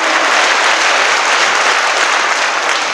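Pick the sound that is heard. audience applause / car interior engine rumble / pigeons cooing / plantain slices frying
audience applause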